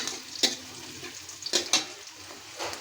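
Chopped onion hits hot oil in a pan with a soft steady sizzle, punctuated by a few sharp spattering bursts and stirring scrapes, close and without speech.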